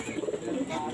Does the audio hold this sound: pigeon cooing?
yes